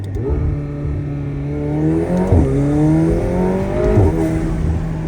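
A McLaren 720S sports car engine downshifting on a night drive, heard from inside: a loud, close drone whose pitch climbs and falls with each rev and gear change.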